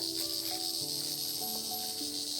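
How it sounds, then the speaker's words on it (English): Jungle crickets and other insects keep up a dense, high, continuous chirping drone, with steady tonal buzzes layered underneath and no voices. "You can hear a lot of insects in the background, mostly cricket sounds."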